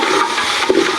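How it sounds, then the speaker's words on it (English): Water drained off a pot of cooked beef, pouring in a steady, close, splashing gush that runs without a break for the whole second. "I want to drain water into here."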